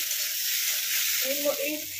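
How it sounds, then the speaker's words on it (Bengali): Potatoes fry in hot oil with a steady, broadband sizzle throughout, close and even, with a short faint voice-like murmur near the end. "এইভাবে ভালো করে আলুটা ভেজে নিয়ে আমি ফেরত আসি।"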